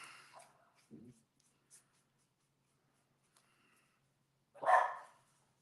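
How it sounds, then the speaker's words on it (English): A pet dog, a self-appointed guard dog, gives a few sharp barks indoors: a faint yip early on, then one loud bark near the end, separated by near silence and scratchy pen-on-paper writing sounds. "Sorry, my dog."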